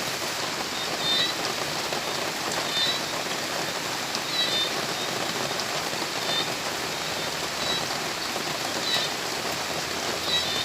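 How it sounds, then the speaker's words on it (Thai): Steady rain falls outdoors, a dense even hiss of drops pattering on surfaces, loud and continuous with no talk. "ถ้าฝนตกจ้า"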